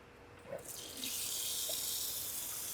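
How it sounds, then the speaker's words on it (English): Lab water tap turned on to run a water aspirator for filtration: a couple of soft clicks and knocks, then a steady close rush of running water that continues to the end. "So I'll turn the water aspirator on."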